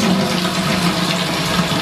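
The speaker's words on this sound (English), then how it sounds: "Need some water? I'll fill that up for you right now." Tap water runs steadily into a bathtub, filling it so a dog can drink; a loud, continuous rushing gush heard up close, with no talking.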